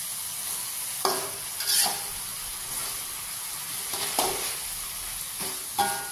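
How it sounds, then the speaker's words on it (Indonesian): Seasoned tilapia simmering in a pan, with a steady soft sizzle and hiss broken by a few brief stirring scrapes and clinks, close and moderately quiet with no talking. "Oke, biar mendidih-mendidih ya, bumbunya biar meresap ya."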